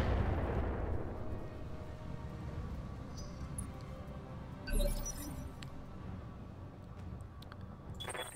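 A BattleTech mech's autocannon fires with a single heavy thud. A deep boom stands out midway through a constant loud rumble of battle noise, and no one speaks.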